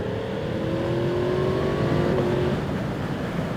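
A Yamaha MT-10 SP Gen 2 motorcycle accelerates hard on a road in Cornwall, its exhaust roaring loud and close with a rising engine tone, and no talking over it.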